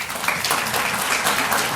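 A dinner audience applauds in a short burst of dense, steady clapping from many hands, fairly close and loud, filling the whole moment without any talk.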